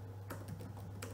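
Typing a web address on a computer keyboard used to navigate an Android device, with a few distinct key taps spread across a steady low hum.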